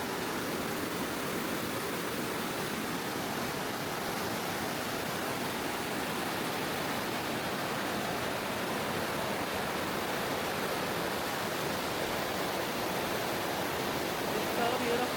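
Steady, full rushing of a river flowing fast nearby in the North Cascades, Washington, filling the whole stretch, an even broadband wash with no breaks.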